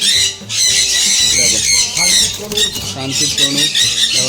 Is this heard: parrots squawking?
yes